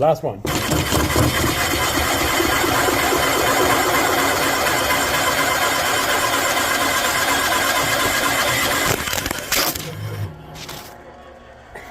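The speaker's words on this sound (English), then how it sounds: "Okay, they're all drilled and ready to mill them down." A milling machine cuts down drilled stud bosses on a Ford 351C cylinder head, a loud, steady mechanical grind running nearly the whole time before cutting off near the end, with brief talk over it.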